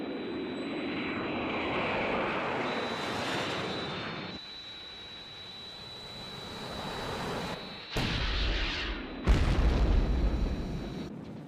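Aircraft engines roar and drone from attacking planes in an episode of the Thunderbirds TV series, with a sustained loud rumble that drops in the middle, then two sharp, heavy bursts like explosions or passes near the end.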